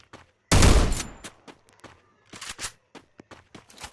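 Gunfire in the Free Fire mobile game: a loud, sharp burst of shots, then several quicker, fainter pops and clicks spaced out over a few seconds.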